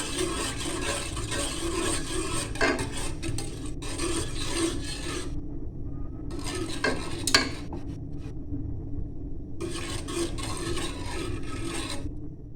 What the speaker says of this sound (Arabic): راح اضل استمر بالتحريك لحد ما يغلي معانا